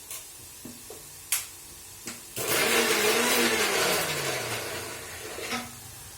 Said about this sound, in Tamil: தக்காளி அரைச்சிட்டேன்.